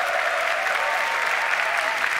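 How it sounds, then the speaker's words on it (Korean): Audience applause at a Korean television taping at an Air Force fighter wing, loud, dense clapping held steady for a couple of seconds without talk. "박수 한번 부탁드릴게요."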